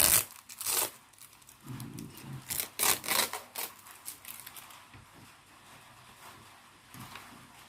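Plastic packaging around a Syngonium podophyllum plant is peeled and torn open by hand, giving several close bursts of crinkling and ripping with short pauses between them.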